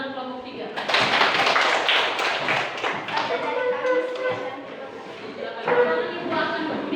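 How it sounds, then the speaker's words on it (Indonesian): Students in a classroom clap for a group of classmates, a steady round of applause lasting several seconds, with voices talking over and among the clapping. "Tepuk tangan untuk kelompok 3."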